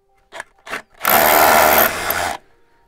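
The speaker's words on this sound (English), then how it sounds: "All we're going to do is get the drill in and just give it a quick pulse." A power drill pulses briefly into a concrete wall while fixing a wooden fence post, two short bursts followed by one longer loud grinding run of about a second and a half, close and alone.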